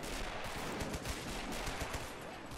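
Lee Enfield rifle fire in the World War II video game Men of War, during a defense near Dunkirk, with rapid overlapping shots cracking in a dense, irregular volley amid a busy battle din.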